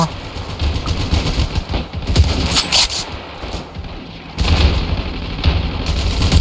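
Bursts of rapid gunfire and heavy booms fill a World War I trench battle in the video game Ravenfield, loud and close, with excited talk mixed in over the shooting.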